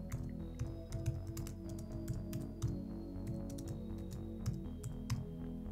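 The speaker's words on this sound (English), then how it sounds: "I'm just gonna type in my YouTube channel." Someone types a short line of text on a computer keyboard, giving a quick scatter of close, light key clicks in uneven bursts over a soft background hum, with no voices.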